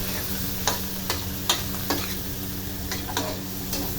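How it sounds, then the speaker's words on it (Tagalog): Ingredients for spicy chicken sinantolan sautéing in a pan, a steady close sizzle broken by rhythmic scraping stirs about every half second. "Ang ganda ng pagkagisa natin ng mga ingredients guys."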